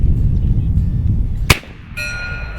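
A 30-caliber AEA Challenger Pro PCP air rifle slug strikes a steel gong: one sharp metallic clang at mid-clip, followed by a faint ringing tone that lingers over low outdoor background noise.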